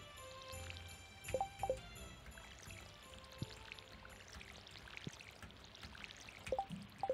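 Water trickles and patters from a watering can onto crops in the farming game Stardew Valley, soft repeated pouring bursts over quiet background game music, no talking.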